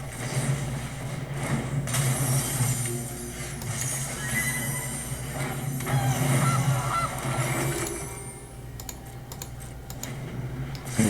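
A goose honk effect from the MTG Arena digital card game sounds over a steady hum of busy game audio and keyboard-like tapping, with no one speaking.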